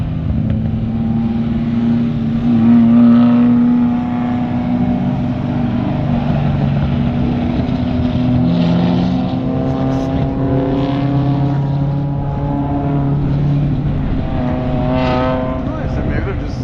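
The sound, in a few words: car driving on a race track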